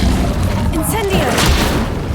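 Fiery spell blasts from the Incendio charm in Hogwarts Legacy, a loud continuous whooshing roar of flame with a sharp burst near the start, mixed with game effects and a voice speaking over it.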